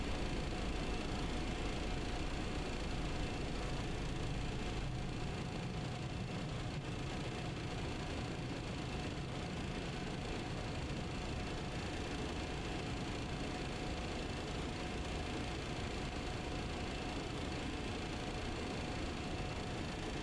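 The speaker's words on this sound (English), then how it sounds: "Okay, so let's start the engine." Engines of a TFDI MD-11 airliner spool up during start in Microsoft Flight Simulator, heard as a constant low drone with a thin whine on top, steady and fairly quiet throughout, with no talking.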